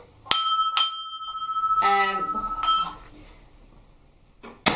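A loud electronic doorbell chimes in a sustained ringing tone with a few sharp metallic strikes, then goes quiet before one more brief hit at the end.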